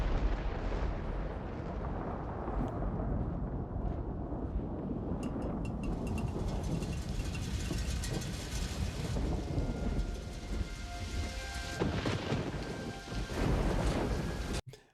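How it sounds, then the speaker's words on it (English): Heavy rain during the Helm's Deep battle in The Lord of the Rings, a dense continuous downpour mixed with deep rumbling booms and clashing battle noise, no talk. "And of course it rains, making everything so much harder."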